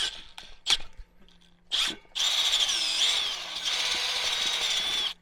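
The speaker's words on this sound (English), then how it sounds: "we're just going to pick one of these holes and drill it out a little bigger" A few brief whirs of a power drill, then a long, steady high-pitched drilling grind enlarging a hole in a metal wheel rim, close up, with no talking.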